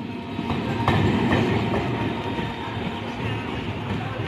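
A down Hasnabad–Sealdah local train pulls out of a station, its loud rolling rumble and clattering wheels steady and close throughout.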